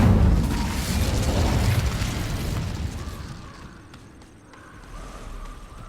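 An Incendio fire spell cast in Hogwarts Legacy, a heavy roaring burst of flame that rumbles loudly at first and then fades away into quieter game ambience.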